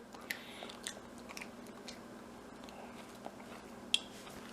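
Red Acre cabbage being bitten and chewed close up, with soft wet crunches and squishy chewing and a couple of sharper crisp bites, quiet and alone.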